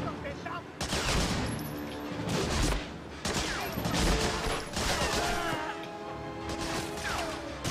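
Gunfire in the Medal of Honor Frontline video game, with dense bursts of shots and crashing impacts running almost continuously, loud and close, with occasional voices beneath.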